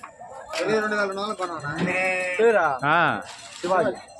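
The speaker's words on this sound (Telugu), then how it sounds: "మొత్తం సూడి గొర్రెలు ఉన్నాయి" Several sheep bleat loudly and close by at a sheep market in Gudur, Nellore, wavering cries overlapping one after another.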